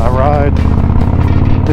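A motorcycle cruising along a scenic country road, a loud, continuous engine drone with shifting pitch, heard up close while a rider talks over it.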